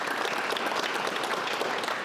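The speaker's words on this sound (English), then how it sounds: "Let's give a round of applause for Ms." An audience claps together after a talk, a brief, even burst of dense applause at moderate volume with no voices over it.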